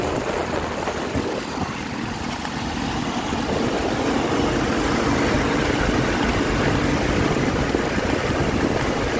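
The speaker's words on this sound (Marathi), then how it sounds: "बघा या ट्रॅक्टरमध्ये पण गणपती बाप्पा जात आहे." A steady, continuous engine drone idles at a constant level throughout, low and rumbling with no breaks.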